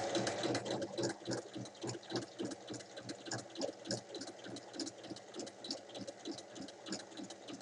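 A domestic sewing machine stitches compartments into a fabric bag, running steadily and close by with a fast, even mechanical throb throughout and no talking.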